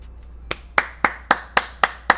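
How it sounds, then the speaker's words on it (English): Seven sharp hand claps in an even, brisk rhythm, close and loud, with no voices. "Round of applause"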